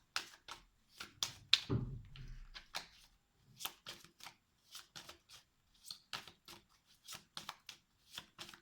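Tarot cards are shuffled and slapped down close by in a quiet room. The crisp flicks come in an uneven, steady rhythm with short pauses between them, and no one speaks.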